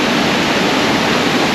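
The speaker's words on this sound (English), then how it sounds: "Beautiful waterfall." A waterfall in a park river in Munich gives off a loud, steady, close rush of falling water with no other sounds.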